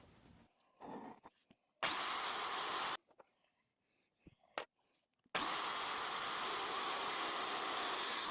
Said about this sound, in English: It takes a lot longer to drill holes through this steel than in this video.